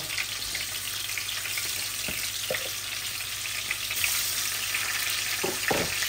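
Rohu fish pieces rubbed with salt and turmeric fry lightly in oil with a continuous close crackle and sizzle, broken by a few faint knocks as the pan is handled.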